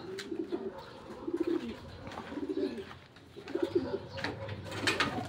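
Racing pigeons coo repeatedly in low, throaty bursts as they return to the loft after a hard training race in Paete, Laguna, with faint chirps and shuffling around them.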